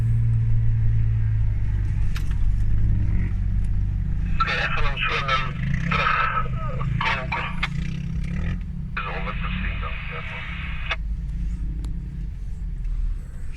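Engines of off-road cars in a long convoy rumble and growl steadily as they drive over Namib Desert sand dunes in Namibia, with revving bursts in the middle and a voice talking over the noise.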